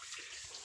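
Water poured out for pigs as a brief, steady splashing flow, close and continuous over a fraction of a second, with no voices.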